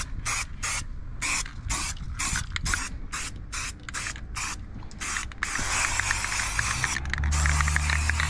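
Yellow spray paint hisses onto Daihatsu Mira rims in a string of short, regular bursts, followed by a longer continuous spray near the end.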